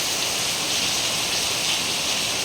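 Heavy rain pours down in a dense, unbroken hiss at steady loudness for the whole stretch, with no voices or other sounds standing out.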